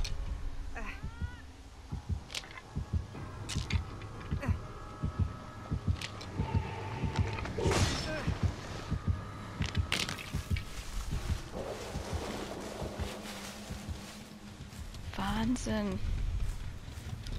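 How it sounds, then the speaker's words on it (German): Rhythmic thumping heartbeat from the Dead by Daylight horror game, a low steady throb repeating under someone talking and assorted game noises. "Also ich habe immer noch einen Herzschlag."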